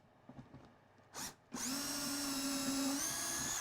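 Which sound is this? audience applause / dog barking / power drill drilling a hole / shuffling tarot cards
power drill drilling a hole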